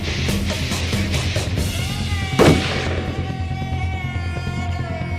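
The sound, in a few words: nearby gunshot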